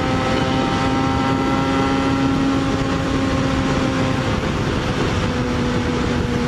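A Yamaha FZ6R motorcycle being ridden, a loud, steady engine drone with a sustained tone and constant wind rush throughout.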